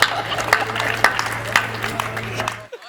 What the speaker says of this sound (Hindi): इस बात पे भीड़ में 2-3 लोगों ने कूट के ताली बजाई है।